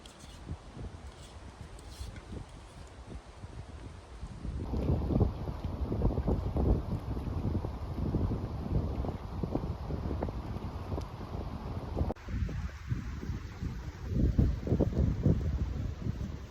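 Gusty wind buffets the microphone outdoors on a lake in the Boundary Waters in early October, with low rumbling roar and occasional sloshing from paddling, no talking.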